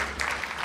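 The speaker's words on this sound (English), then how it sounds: "Give her a bigger round of applause if you say yes to her speech" Audience applause at a women's economic empowerment forum in Kenya, a brief steady wash of clapping from a crowd.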